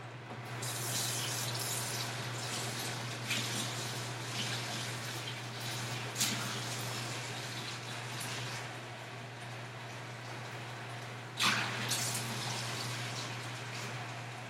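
Tap water runs steadily into a bowl as it is rinsed, a continuous hissing splash with a couple of sharper clatters from the bowl, close up over a low electrical hum.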